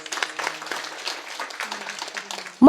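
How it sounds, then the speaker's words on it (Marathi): An audience claps steadily along at a Marathi kirtan, a devotional sung discourse, with a dense patter of hands mixed with voices and a sudden louder burst at the very end. "वाजवत जा टाळी, वाजवत जा."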